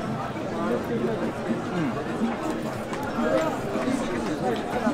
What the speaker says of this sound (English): Look how much the crowd's built up.